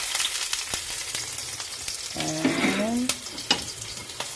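Ginger, garlic and onions frying in a hot pan for shrimp sinigang give a steady sizzle, with stirring clatter and faint utensil knocks, and a brief spoken word over it.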